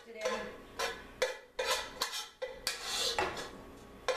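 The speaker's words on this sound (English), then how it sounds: "I'm just going to go ahead and add the whole entire thing right into the pot" Ground beef tipped into a cooking pot for goulash, with a series of clattering metal thumps and scraping stirs, several sharp knocks of a utensil against the pot spaced irregularly, close and fairly loud.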